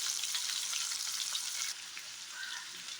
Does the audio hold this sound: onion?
yes